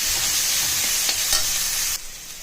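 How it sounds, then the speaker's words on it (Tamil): Onion and garlic sautéing in a hot pan for a brinjal and tomato rice dish, a steady close sizzle with scraping stirs throughout that drop slightly quieter near the end; no talking. "பூண்டு வெங்காயம் நல்லா வதக்கணும்."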